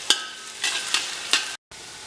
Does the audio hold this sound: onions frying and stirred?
yes